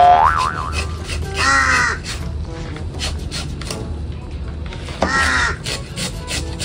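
Loud, harsh crow caws ring out in two clusters, near and clear, over a steady background hum.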